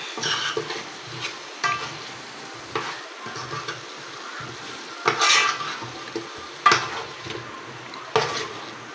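Food with spices sizzles gently in a pan while a utensil scrapes and stirs it in irregular bursts of clatter and scraping, fairly quiet and close, with no voices.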